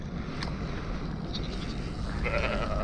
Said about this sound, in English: Believe me, there are sheep here.